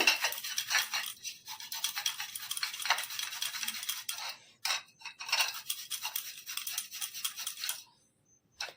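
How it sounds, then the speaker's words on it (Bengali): Ginger rubbed against a kitchen grater gives repeated short, dry rasping scrapes in quick bursts, close and fairly faint, with brief pauses between strokes and a stop near the end. "একটু আদাটাকে গ্রেট করে নেব"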